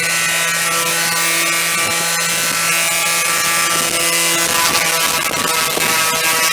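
A power sander with a 2000 grit pad wet-sands an oxidized surface, giving a continuous buzzing whine with a steady hum and slight shifts in pitch as the pad drags.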